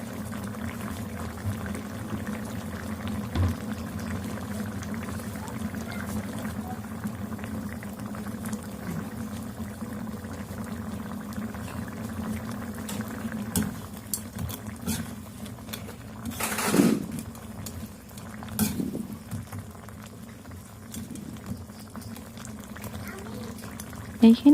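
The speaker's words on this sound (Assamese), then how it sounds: "আৰু এতিয়া এইখিনি উতলি আছে ভালদৰে।" Crab curry with large crab legs, cumin and garam masala bubbles in a pot, soft continuous simmering and popping, with a louder stir or splash midway and a voice speaking over it.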